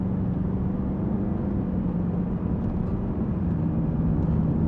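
Car idling or cruising with its switchable exhaust valve closed in quiet mode, a steady low muffled drone at moderate level with no talking.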